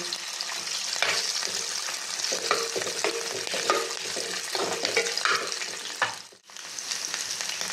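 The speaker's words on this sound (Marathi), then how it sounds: "थोडं असं हलवून घेते आणि यात चिरून ठेवलेला 1 बटाटा टाकते" Chopped potato, green chillies and cumin crackle and hiss in a hot pan while a spoon scrapes and stirs at a steady pace, with a short break near the end before the sizzling resumes.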